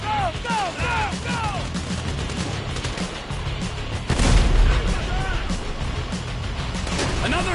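Heavy tank cannon booms and explosions in the video game GTA 5, a loud continuous battle din with a big blast midway, accompanied by shouting voices.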